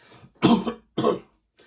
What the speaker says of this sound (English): You know, I cough in every reading I do